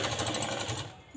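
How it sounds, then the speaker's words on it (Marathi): Rapid, even mechanical whirring of a sewing machine running a double line of stitching, close and fairly quiet, stopping abruptly after about a second. "डबल शिलाई करायची."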